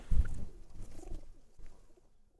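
A female pigeon gives a short, low, throaty coo close by, fading away within a couple of seconds.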